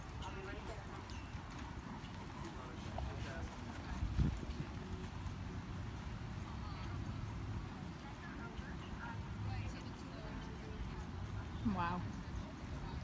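A horse's hooves clip-clop in a steady cadence at a riding event, with a brief whinny-like sound, over continuous background noise and crowd or commentary voices.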